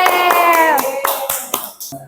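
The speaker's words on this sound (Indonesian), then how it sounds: "tepuk tangan buat Abel" Students in a high school classroom give a short, loose burst of clapping, a handful of distinct claps with a voice heard briefly at the start.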